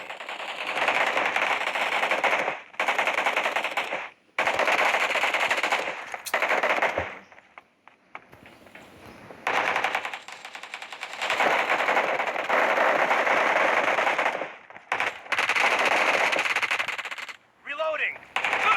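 Long bursts of rapid machine gun fire from a shooter video game rattle close and loud, broken by short pauses and a reload gap, with a voice briefly speaking.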